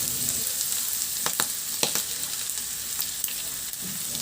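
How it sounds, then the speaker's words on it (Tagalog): Ground meat fries with garlic and onion in a pan, a steady bright sizzle broken by several sharp clicks of a utensil stirring, close and soft. "Habang hinahalo natin, isabay na rin natin yung karni o yung ating giniling."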